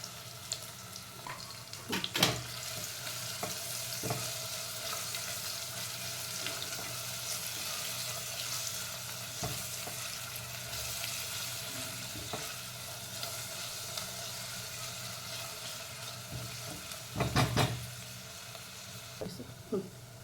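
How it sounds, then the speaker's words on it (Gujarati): Onions with cumin and mustard seeds frying in a pan, giving a continuous moderate sizzle with occasional stirring scrapes and knocks for about twenty seconds, with no voices. "રઈ અને જીરું આપણે થઈ ગયું છે પછી આપણે ડુંગળી એડ કરીશું ડુંગળી બે મોટી ડુંગળી લીધી હતી"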